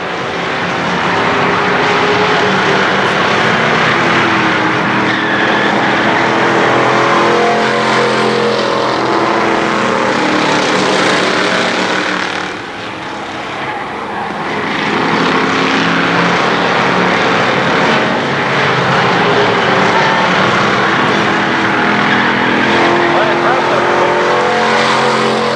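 Race cars lapping KilKare Speedway at a Labor Day championship event, a loud continuous roar of engines circling the track with a brief dip as the pack passes.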